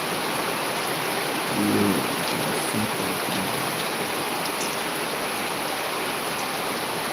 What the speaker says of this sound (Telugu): వర్షం పడిపోయింది